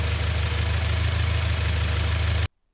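A car engine converted from carburettor to individual throttle bodies idles at night during its first start, with a steady, low rumbling pulse, close and loud, then cuts off abruptly near the end.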